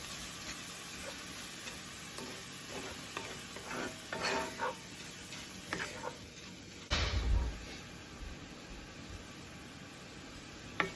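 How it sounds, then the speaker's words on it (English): Seared steak and cauliflower rice get tossed together in a hot pan, giving a soft continuous sizzle with scattered scrapes and clicks of a utensil, close and alone. "let's mix all of that in"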